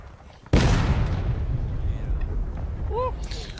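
An artillery cannon fires once with a sudden loud boom that rolls and echoes outdoors for several seconds, with voices speaking faintly around it.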